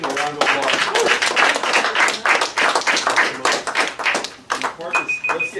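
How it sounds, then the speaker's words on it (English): Workshop audience gives a round of applause for a presenting group, dense overlapping claps filling the room at close range, with voices talking over the clapping toward the end. "Let's give them a round of applause."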